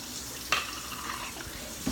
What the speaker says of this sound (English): I'm just gonna rinse off this blender real quick.